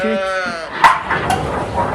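Sheep bleat close by at a farm barn, a wavering harmonic cry followed by a couple of shorter bleats, with background farm noise underneath.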